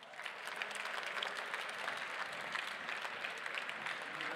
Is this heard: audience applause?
yes